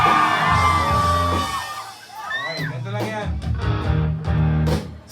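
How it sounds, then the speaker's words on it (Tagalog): A live concert crowd in Taipei yells and shouts loudly in unison with sustained, overlapping voices, briefly dropping, then cheering again in bursts. "yan yung pinakamalakas sumigaw"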